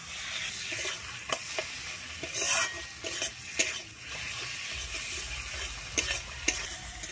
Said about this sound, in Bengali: টমেটোটা যতক্ষণ না গলে ততক্ষণ কিন্তু আমি টমেটোটাকে ভাজতে থাকবো।